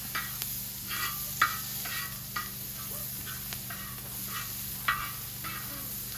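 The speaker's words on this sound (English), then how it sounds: "Half a red onion. And I'm just going to let that cook a little bit." Half a red onion sizzles in a pan over high heat, a soft steady hiss with regular light ticks and scrapes of stirring, fairly quiet and close, with no one speaking.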